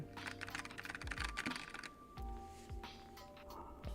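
Steady typing on a mechanical keyboard, quick clacking keystrokes with a springy ring after some presses, close and fairly quiet.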